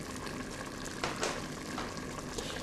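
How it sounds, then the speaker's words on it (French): Lamb tajine with lemon, cinnamon and cumin simmers over low heat in a covered pot, giving a faint, steady bubbling and soft sizzle with a few slightly louder pops, no voices. "Et on laisse mijoter à couvert pendant au moins 30 minutes à feu doux"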